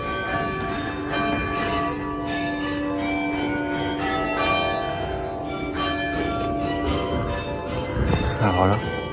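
Carillon bells in the north tower in Geneva ring in a dense, overlapping peal of small bells. The chimes are loud and close, with some background voices.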